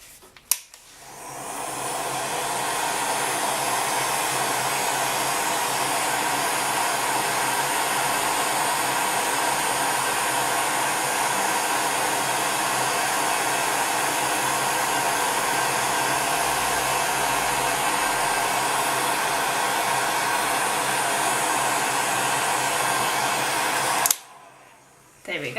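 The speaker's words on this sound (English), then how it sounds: "Then bring over your heat gun, same settings, and heat." Heat gun warming a liquid clay pendant bead gives a loud, steady close-up blowing roar for most of the clip, cutting off near the end with a brief knock.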